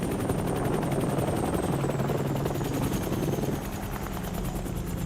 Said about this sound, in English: provides an opportunity to practice helicopter rescues.